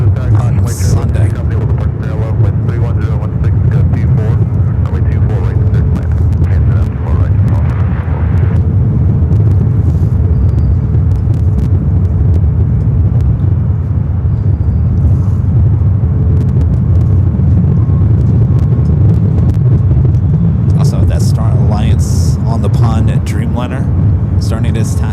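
An airliner taxiing at LAX airport gives a loud, steady low rumble of engines across the whole stretch, with wind buffeting and a few sharper bursts toward the end.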